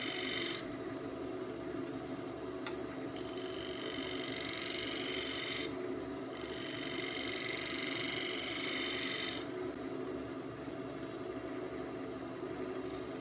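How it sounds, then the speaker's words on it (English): A spindle gouge trims the rim of a wooden snack bowl spinning on a lathe, a steady motor hum under bursts of rough scraping cuts that start and stop several times, close and continuous, with no talk. "I grab my spindle gouge and I am trimming up that rim"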